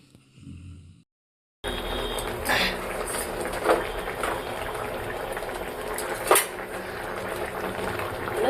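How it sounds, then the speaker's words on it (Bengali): Folui fish simmering in a spicy chilli curry gravy in a kadai, a steady bubbling hiss filling the clip after a short quiet gap, with a few light clinks of utensils. "কলই মাছগুলো আস্তে আস্তে দিয়ে দেওয়া হলো ঝালের ঝোলে"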